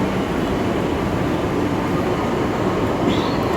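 A continuous low rumble and roar of a metro train in motion, steady and fairly loud throughout, with no voices.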